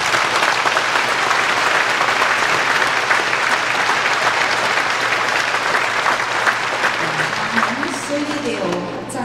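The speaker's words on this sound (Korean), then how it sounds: "뉴서울 필하모니 오케스트라단 그리고 김인규 지휘자님 큰 박수 부탁드리겠습니다" A concert audience gives sustained, dense applause for a philharmonic orchestra and its conductor, an even wash of clapping filling the hall before fading slightly at the end as a voice begins.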